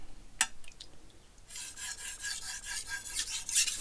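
A knife blade is drawn in light back-and-forth passes over sandpaper, a few soft rasping strokes following a single sharp tap, the scratchy rhythmic rubbing close and fairly quiet.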